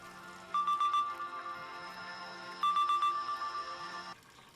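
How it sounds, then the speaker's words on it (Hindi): A phone ringtone plays two repeated bursts of a bright electronic melody, fairly loud and alone, with a quiet pause between them. "मोहम्मद का फोन है।"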